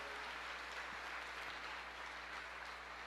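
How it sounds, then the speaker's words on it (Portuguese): A church congregation applauds with faint, continuous, even clapping that blends into a soft wash of sound, with no voices standing out. "Você pode aplaudir o Senhor, você pode glorificar o Senhor."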